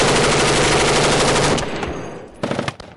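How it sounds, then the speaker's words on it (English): Machine gun fire during a firefight on a hillside, a rapid continuous burst of shots for about a second and a half, then a short gap and a second quick burst, loud and close. "We're taking heavy fire from..."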